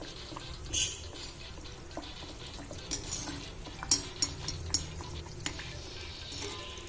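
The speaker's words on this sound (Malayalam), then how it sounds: "ഇതിലേക്ക് ഓരോന്ന് ഇട്ടെടുത്ത് ഫ്രൈ ചെയ്തെടുക്കാം." Breaded chicken kameera frying in hot oil over a medium flame: a soft, steady sizzle broken by several sharp clinks and scrapes of utensils against the pan.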